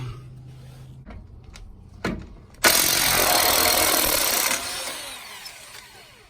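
An impact wrench on old rusted bolts of a third-generation Toyota 4Runner, a few knocks and then a loud sustained burst of hammering lasting about two seconds before tapering off, close by with no talking.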